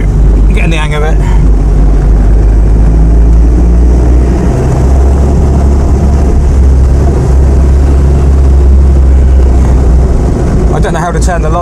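A 1937 Austin 7 drives along in third gear, its small engine droning loud and steady with a constant low rumble throughout, punctuated by brief clicks near the start and end.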